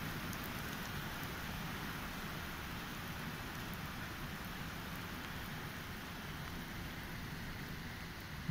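Steady heavy rain falls outdoors in Moscow in summer, a constant even hiss with no voices.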